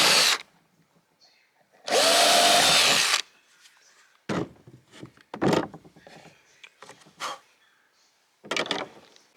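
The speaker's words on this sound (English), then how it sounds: "we're drilling the holes for the drawer pulls" A power drill bores holes for drawer pulls on a wooden storage bed in a tiny house. A short whir comes first, then one long loud burst, followed by scattered knocks and handling clatter.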